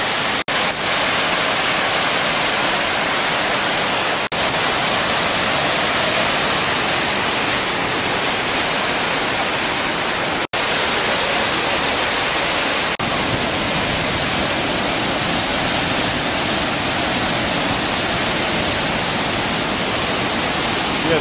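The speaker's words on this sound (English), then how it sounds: "I have never seen this much water coming over the dam before." A massive volume of water roars over a dam spillway, a dense, loud, unbroken rushing wash heard close by, steady throughout with no voices.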